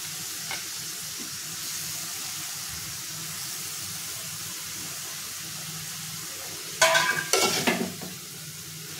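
Chopped taro stalks stirred into a sizzling Maharashtrian-style prawn curry, giving a steady low frying hiss, then a louder burst of scraping and clattering near the end.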